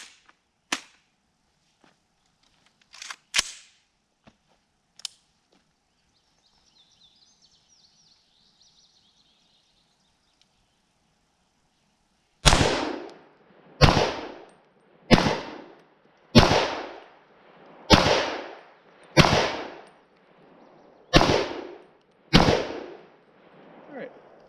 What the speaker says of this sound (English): Alright, so there you go, unsuppressed.